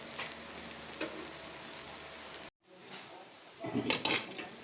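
Taro leaves with bean seeds fry in a wok, a steady low sizzle with occasional utensil clinks and scrapes, broken by a brief silent gap before a louder burst of stirring and scraping near the end.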